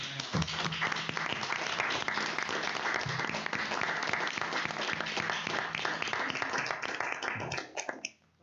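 Audience applause at a school board meeting, a dense sustained round of clapping from a room of people that cuts off abruptly near the end.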